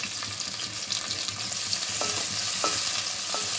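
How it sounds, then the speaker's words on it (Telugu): Green chillies fry in hot oil with a bright, continuous sizzling hiss, close and even, with a few faint tonal beeps in the background and no talking. "పచ్చిమిర్చి ఆయిల్లో వేగితే మంచిగా ఉంటుంది"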